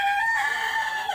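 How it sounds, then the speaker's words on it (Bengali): Chickens give a short, close, high-pitched clucking call that rises and holds before it fades, with no other sound behind it. "এই যে মুরগিগুলো দেখতেছেন"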